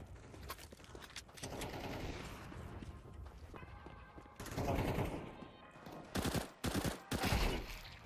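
Gunfire in a first-person shooter deathmatch comes as rapid bursts of shots and short volleys, growing louder toward the end, with a voice briefly between.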